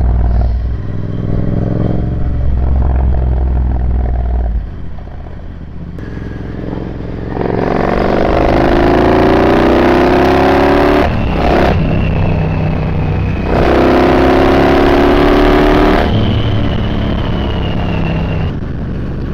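Supercharged Triumph Bobber motorcycle engine with a slightly rich fuel mixture revs up and down in repeated strong surges, loud and close, with a rising whine during each rev and idling between them.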